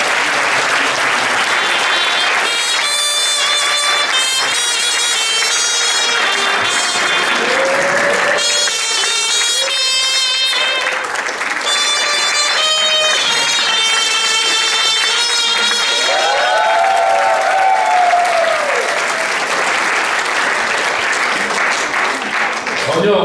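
A church congregation at an anniversary revival service applauds in thanks, with steady, sustained clapping throughout and music with voices sounding over and under it.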